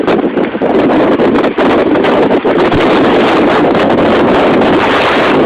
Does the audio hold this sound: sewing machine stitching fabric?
no